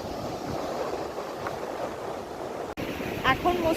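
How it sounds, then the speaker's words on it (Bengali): Steady surf washes onto the beach at Mandarmani at dusk, a continuous broad roar with wind noise on the microphone and a brief distant voice near the end. "এখন মোস্ট প্রবাবলি জোয়ার টাইম"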